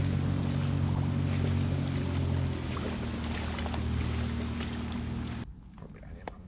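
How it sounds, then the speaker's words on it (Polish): A jet ski brakes on open water, giving a loud, broad engine-and-spray roar that runs for several seconds and then cuts off abruptly, leaving quiet ambient water sound. "jak się hamuje skuterem wodnym"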